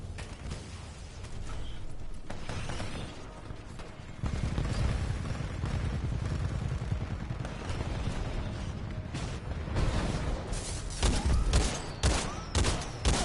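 Gunfire from Titanfall 2, with rapid bursts of shots layered over mechanical clanks and rattling that grow denser and louder toward the end, with no talk over them.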